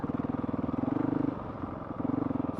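A Honda CRF 450 RL dirt bike engine at light, barely touched throttle, a close, steady low thumping putter with a rapid regular pulse that swells slightly twice, running alone with no talking.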